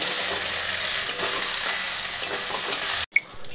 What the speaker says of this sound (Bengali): পেঁয়াজটা ভাজা হয়ে গেছে, মশলাগুলো সব ভাজা হয়ে গেছে।